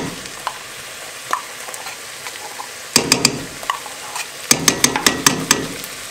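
Canned peeled tomatoes added to a pot of peasant soup and stirred, quiet sizzling and scattered taps, then two bursts of rapid clattering, knocking strokes against the pot.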